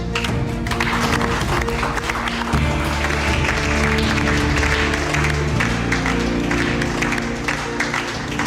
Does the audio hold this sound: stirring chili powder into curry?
no